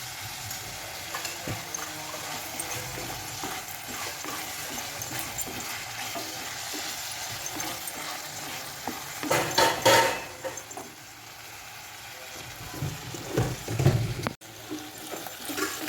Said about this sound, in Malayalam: അതിനൊരു പാത്രം വെച്ച് എണ്ണ വെച്ച് ഉള്ളിയിട്ട് മസാല ആക്കണം.